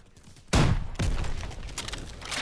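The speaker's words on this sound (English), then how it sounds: "Oh, they're shooting at me." Gunfire in the Call of Duty WWII video game, heard as two sharp, loud blasts about half a second apart, then a rattle of quieter shots.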